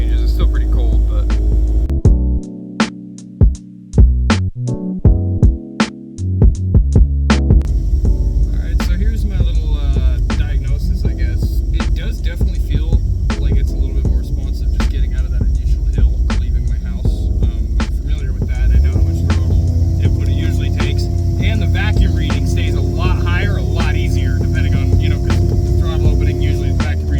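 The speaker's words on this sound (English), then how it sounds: "It does make this really annoying drone, though." A steady low droning hum from an old smog pump used as a crankcase vacuum pump fills the car cabin, with a burst of rhythmic clicking early on, then a continuous throbbing tone while driving.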